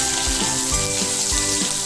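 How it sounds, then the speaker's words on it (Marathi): Green chillies frying in a pan for a spicy tomato bhaji give a steady, close, even sizzle, with soft low thumps now and then as the pan is moved. "मिरची सुद्धा आपल्याला छान भाजून घ्यायची आहे।"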